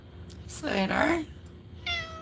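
A cat gives a drawn-out, rising-and-falling meow at close range, followed by a shorter second meow, heard in a quiet indoor setting.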